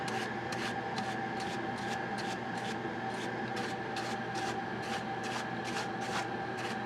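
A brush sweeps flux residue off the circuit board of a Hewlett Packard/Agilent E361x power supply, a quiet series of quick rhythmic scratchy strokes repeating at a steady pace, close to the mic.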